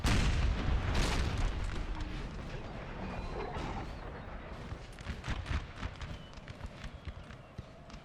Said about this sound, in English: This artillery position is still firing.